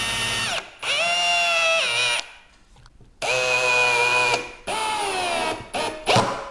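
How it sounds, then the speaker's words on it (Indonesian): A power drill fitted with a countersink bit bores pilot holes in wood for a simple wooden tray, three loud close bursts of high whining with short pauses between and a final brief rev. "Jadi kita mesti bikin pilot hole atau kita bor dulu untuk mencegah kayunya pecah."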